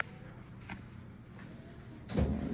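A drawer in a hotel suite slides open with a short low rumble near the end, following a few seconds of quiet room noise.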